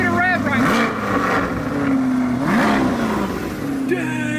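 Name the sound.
2023 Corvette C8 engine revving with stock exhaust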